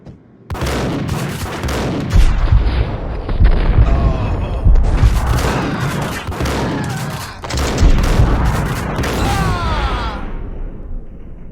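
Dense gunfire and booming shots from the video game Max Payne, loud, continuous bursts with heavy low-end thumps nearly throughout, with no talk.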